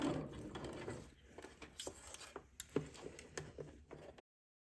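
Home sewing machine stitching a fabric facing for a Simplicity S9469 garment, heard as faint, uneven mechanical ticking and clicking bursts with quiet pauses between runs of stitches.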